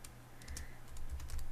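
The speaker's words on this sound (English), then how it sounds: "I just type in something to do with the name" Quick, quiet keystrokes on a computer keyboard, a short run of soft clicks over a steady low hum.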